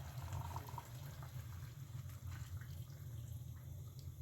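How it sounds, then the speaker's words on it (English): Water pours steadily into a pot of venison stew, a soft continuous trickle and splash over a low background hum, faint and unbroken throughout. "what I'm gonna do now is I'm gonna add a little bit of water in here"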